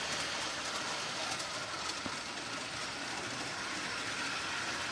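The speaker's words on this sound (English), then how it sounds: "I'm running TH&B train on it for the first time." A TH&B model train on an outdoor garden railway rolls steadily across a bridge, its continuous rumbling and clicking wheel noise close and even throughout, with no voices.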